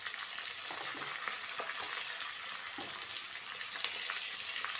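Fatty mutton sizzles steadily in hot mustard oil with cumin and bay leaf, a dense, even crackle that holds at one level throughout, with faint stirring clicks beneath it.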